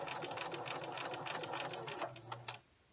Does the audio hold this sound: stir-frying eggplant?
no